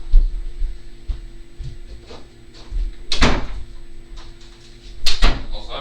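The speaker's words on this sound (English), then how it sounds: "I'm gonna close the door" A room door is swung shut indoors, giving a dull thump followed seconds later by another sharp latch-like knock over a low steady hum.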